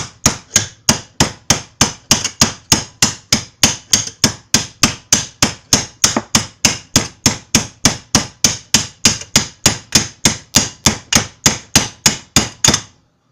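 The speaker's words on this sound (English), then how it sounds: "you work your edge of your hammer around it" Steady, rapid hammer taps on a metal pipe end, flaring it with the hammer's edge, about three strikes per second, close and loud, continuing evenly with no talking.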